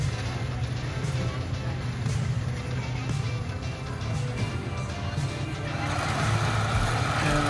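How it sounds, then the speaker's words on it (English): A train rumbles by in the distance near an amusement park in Rossville, Georgia, a low steady drone with engine-like noise that swells slightly toward the end, with faint voices in the background. "Train going by in the distance."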